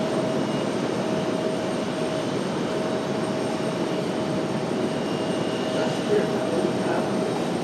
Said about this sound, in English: So it's an American West 757.